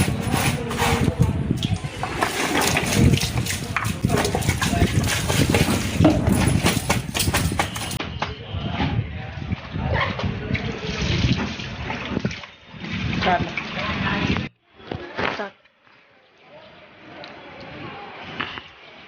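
Water runs steadily while white shoes are washed by hand at home, a loud continuous splashing and gushing that later thins and drops away, with brief handling knocks near the end.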